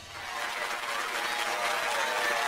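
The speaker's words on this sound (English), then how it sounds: "Once more, please give a big round of applause for our talented participants." Crowd applause from the Fire Emblem: Three Houses video game, a dense, steady wash of clapping that holds at an even, loud level throughout.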